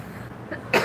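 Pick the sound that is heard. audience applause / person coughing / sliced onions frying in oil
person coughing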